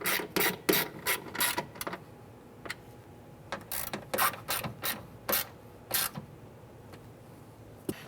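Four bolts on a 1995–2001 Ford Explorer rear power window motor are snugged down with a hand ratchet, giving rapid clicking bursts of varying length with short pauses between them, close and moderately quiet.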